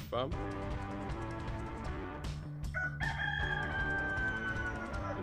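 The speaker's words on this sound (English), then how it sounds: "See chicken inside." A rooster crows loudly nearby on a pig farm, a long rising-and-falling call, with other clucking and farmyard chatter around it.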